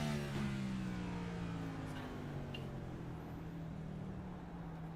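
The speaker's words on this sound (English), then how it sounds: "you can hear those tires screaming, just trying to struggle for grip." Onboard a Chevrolet race car at COTA in a Next Gen series race, a steady loud engine drone with a sustained tonal whine and tire noise running through the whole stretch.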